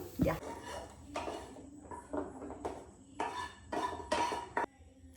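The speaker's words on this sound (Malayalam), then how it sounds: "ഈ ഒരു പാനിൽ നമുക്ക് ചിക്കൻ ഫ്രൈ ചെയ്തെടുക്കാം" A pan and metal utensils clatter while chicken is fried, with a series of close clinks, scrapes and knocks arriving in short bursts against a low background hum.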